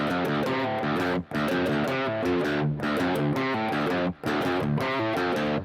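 A distorted electric guitar with a high-output pickup plays a chunky, crunchy riff through a Carl Martin Greg Howe Lick Box pedal on its crunch setting, loud and up close, with two brief gaps breaking the steady chords.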